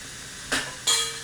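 Shallots, garlic and thyme sizzle in a pan with a soft hiss, broken by two brief bursts of louder crackle and a metallic clink as they're stirred.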